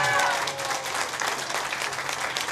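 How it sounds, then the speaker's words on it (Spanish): An audience at an evening presentation bursts into loud, sustained applause, a dense wash of many hands clapping together for the whole moment, with faint crowd noise and a voice underneath. "¡Fuerte los aplausos!"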